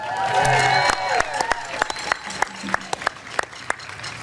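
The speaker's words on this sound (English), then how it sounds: "So let's give them a round of applause." Rally crowd outside San Francisco City Hall claps and cheers, dense applause fading after about a second into scattered individual claps, with a tonal whistle or horn layered over the start.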